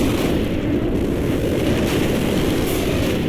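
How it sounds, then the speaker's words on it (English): Loud, continuous booming rumble of explosions in the video game Xenogears during a boss fight, a dense roar that never lets up, like a barrage of explosions blending together. "There's lots of explosions."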